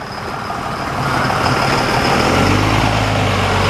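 A Cummins turbo diesel truck engine running at a car show, a steady low rumble that swells as it revs, near and loud with no talk.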